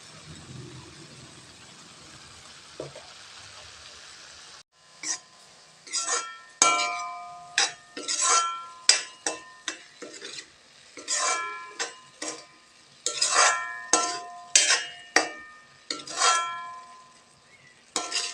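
A pan of carrot halwa cooking with sugar is stirred with a metal spoon, giving a series of bright, irregular clinks and scrapes against the pan after a quiet opening hiss.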